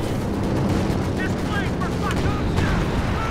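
Constant battlefield gunfire in the World War II strategy game Company of Heroes, a loud dense wash of overlapping shots and booms, with brief excited voices talking over it.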